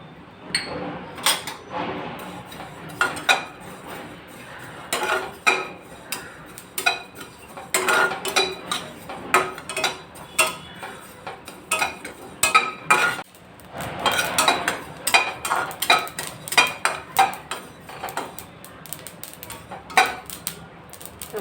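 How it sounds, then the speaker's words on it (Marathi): Sesame seeds roasting in a pan while being stirred, with repeated metallic scraping and clinking of a utensil against the pan in irregular bursts, close and moderately loud, with a short lull midway. "आता आपण जवळच काढून तीळ भाजू आता आपण तीळ भाजूया"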